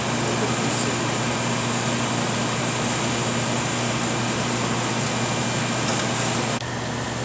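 A turbo pump on a Plasma-Therm System VII Batchtop etcher runs with a steady, continuous mechanical whir and hum, constant in level and alone, changing tone slightly near the end.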